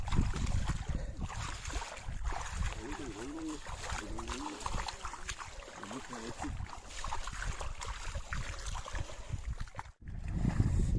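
Boat travelling on water, with a constant wash of wind and water noise, while people talk over it.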